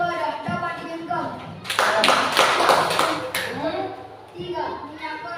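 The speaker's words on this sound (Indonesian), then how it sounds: "Tepuk tangan." A group claps their hands together in a brief burst of rapid, overlapping claps, loud and close, after spoken lines in a classroom lesson about liquids, with voices before and after the clapping.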